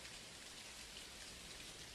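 Dense, even rain effect from Unreal Engine, a continuous hiss of many fine drops with no breaks, thunder or voices over its two seconds.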